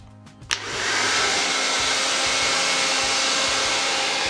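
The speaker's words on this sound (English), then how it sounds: "So notice how I'm sort of angling the hairdryer upwards right in at the root" A hair dryer clicks on and blows steadily at the roots of fine, straight hair being styled long and sleek, a loud, continuous close-up whoosh with no talk.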